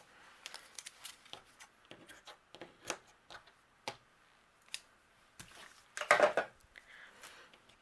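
Scissors snip the loose tails of baker's twine on a handmade card panel: a few light, scattered clicks and taps, then one louder, close cut near the end, with no talking.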